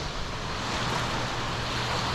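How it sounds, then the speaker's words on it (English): Waves on the Hawkesbury River wash past a sailing boat after the Sydney floods, making a steady, continuous rush of water mixed with wind buffeting the microphone, with no talking. "There are some waves coming through, but that won't worry my boat provided I've got power."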